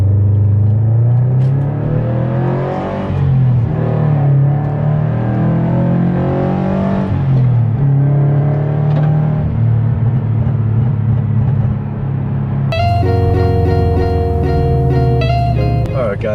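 A Subaru BRZ with an Invidia N1 catback exhaust accelerates hard, its engine note rising as a steady, loud rumble near the microphone, with a brief higher tonal sound near the end.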